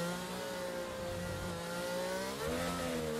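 Car engine revving in a racing video game at the Singapore Grand Prix as rain wets the track, a steady high-pitched harmonic whine rising and dipping in pitch with the revs, loud and continuous with no talk.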